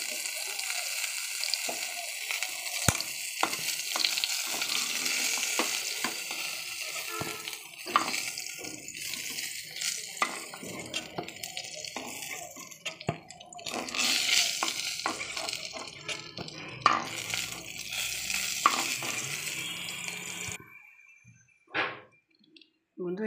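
Pointed gourds (potol) fry in hot oil with a dense sizzle, punctuated by utensil clicks and scrapes. The sizzle drops out near the end, leaving a few faint knocks.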